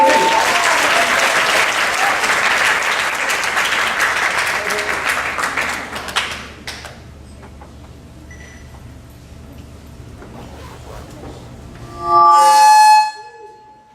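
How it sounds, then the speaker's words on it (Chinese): A theatre audience at a music festival musical breaks into loud, sustained applause that fades out after about six seconds, followed by a quieter stretch with scattered sounds and a brief loud burst near the end. "我们掌声鼓励"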